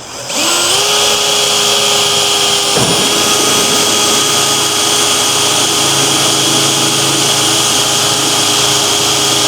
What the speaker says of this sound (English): I like to drill a little pilot hole first so we're not putting too much pressure on the quarter panel.